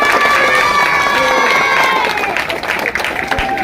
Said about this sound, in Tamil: அனைவரும் கைத்தட்டி முதல்ல அவருக்கு வாழ்த்துக்களை தெரிவிப்போம்